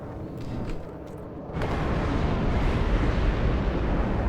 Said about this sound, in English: There it is, coming in with the explodey napalm.